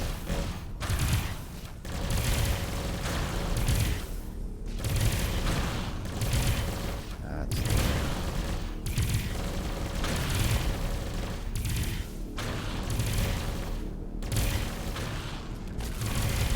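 Missiles launching in the space game Avorion: a loud, continuous roar of repeated blasts and booms, with short dips in intensity every second or two and no talk over it.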